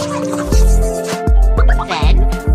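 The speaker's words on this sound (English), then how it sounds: "Let's add some warm water first." Cartoonish video-game effect of warm water poured into a baby bottle: a series of loud, close drips and liquid plops with bubbly gurgling.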